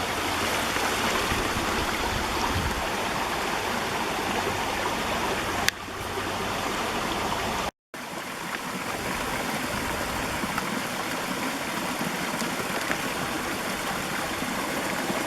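Steady rushing and babbling of a shallow, low-water creek running over rocks near the abandoned village of Rausch Gap, close and continuous, with one brief dropout partway through.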